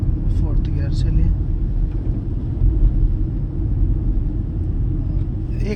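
A Tata Punch car's engine drones in fourth gear as a low, steady rumble with road noise, while a voice talks over it throughout.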